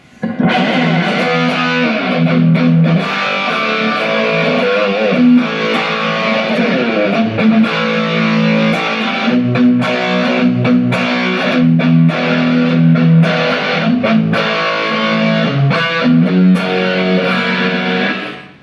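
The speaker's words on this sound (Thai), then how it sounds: "ทีนี้มาเป็นเรื่องของเสียงแตกนะครับ" A heavily distorted electric guitar plays sustained, crunchy chords and riffs, loud and close, with no talking.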